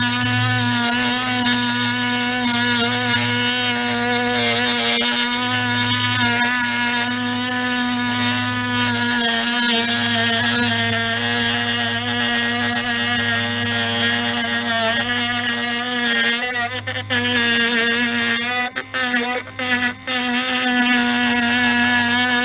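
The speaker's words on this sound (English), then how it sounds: "Put a stone on the drill. Just going to polish this up a bit with that." A handheld power drill fitted with a polishing stone works a chrome surface, giving a loud, steady motor whine that runs throughout and briefly stutters and drops a few times near the end.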